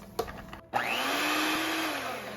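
An electric mixer runs on low in vegan, gluten-free lemon cake batter, starting after a couple of clicks and then holding a steady, close whirring hum for about two seconds.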